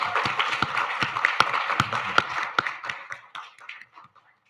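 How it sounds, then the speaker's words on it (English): Audience at a post-election symposium applauds in a short burst of clapping that starts fairly full and thins out, fading to a few scattered claps by the end. "Please join me in giving a round of applause."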